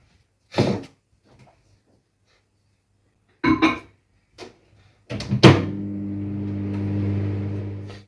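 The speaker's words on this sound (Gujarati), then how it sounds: "તો હું એકચ્યુઅલી માઇક્રોવેવમાં મૂકી દઈશ." A microwave oven in a home kitchen in England heats a cooked dish. A few sharp knocks and clunks from the door and buttons come first, then a steady low electrical hum starts and runs on, close and alone.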